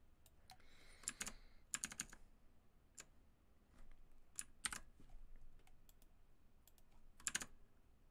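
A computer keyboard is typed on in scattered quick bursts of clicks with pauses between, close and fairly quiet against a low room hiss, with no talk.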